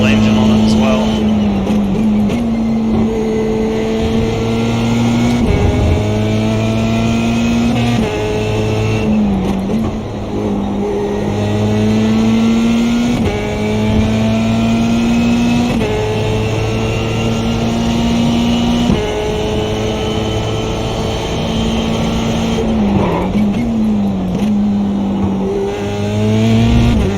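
A Formula 3 race car with a small Renault 2.0 engine in the iRacing simulator revs hard through repeated upshifts, its loud, steady engine whine climbing and dropping in pitch throughout.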